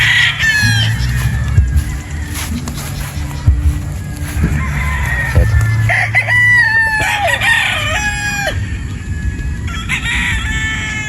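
Boston Roundhead gamefowl roosters on a game farm crow loudly and close by, several overlapping calls rising and falling, with clucking and scattered farmyard noise between them.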